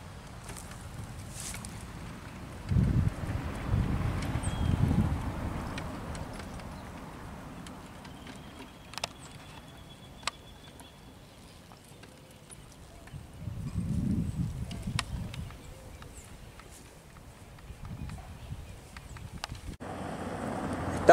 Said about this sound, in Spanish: Ahora ya lo traemos a un trote más definido, más marcado, la misma tranquilidad